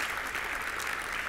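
A seated audience claps steadily for volunteer board members, a dense, even wash of applause that carries through without pause and with no voices on top.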